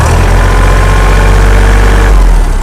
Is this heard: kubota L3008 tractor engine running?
yes